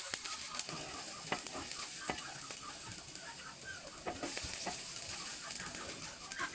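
Vegetables being stirred through fried rice in a pan give a faint, steady frying hiss with scattered scraping clicks of the utensil, close but quiet, with no talk.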